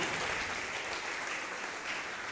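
Church congregation applauding in praise during a sermon on the Sabbath, a dense, sustained wash of many hands clapping at steady loudness with no pauses.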